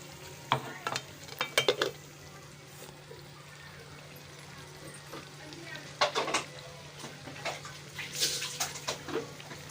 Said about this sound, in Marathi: हे असं परतून घ्यायचं, व्यवस्थित सगळीकडे मसाला लावून घ्यायचा।